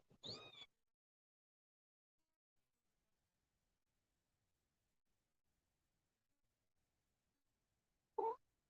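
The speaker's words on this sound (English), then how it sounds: "oh, this little kitten's bad" A young kitten meows twice, a loud cry at the start and another after a long silence, both close and alone.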